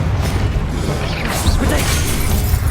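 Spell casts crackle and whoosh in Hogwarts Legacy, Confringo and Expelliarmus fired in quick succession amid a loud, dense wash of magical combat noise with mechanical clatter and bursts.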